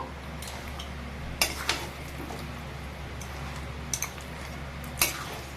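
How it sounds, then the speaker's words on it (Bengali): Spoon stirring tamarind in a kadai, a few faint scraping clinks at irregular intervals over a low steady kitchen hum, no voices. "তেঁতুলটা কিছুক্ষণ কড়াইতে নাড়বো।"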